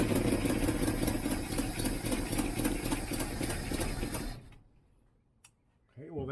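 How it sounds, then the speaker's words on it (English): A 1967 Mustang's rebuilt 390 engine runs with a huge exhaust leak, ticking and chuffing loudly and rhythmically before cutting off abruptly, followed by near silence and faint sounds. "except for the huge exhaust leak, that actually didn't sound too bad."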